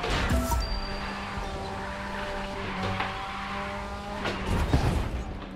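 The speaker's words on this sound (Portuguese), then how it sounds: "Mano, agora eu tô fazendo drift." A car drifts in the racing game The Crew 2, its engine holding a steady sustained tone while tires squeal and skid, loud and continuous, with a rougher surge near the end and no talk.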